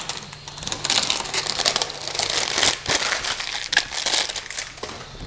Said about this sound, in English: Let's peel off the sticker and level the bed.